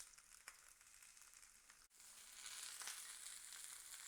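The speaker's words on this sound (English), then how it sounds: "This is sizzling away." Lamb shanks sear in hot oil in a pan, giving a continuous, fairly quiet hiss and crackle that briefly dips, then swells stronger and steadier.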